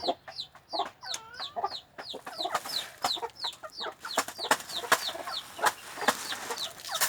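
Several farm chickens cluck and squawk repeatedly, close by, in a busy chattering run of short calls with scattered scratches and knocks during feeding.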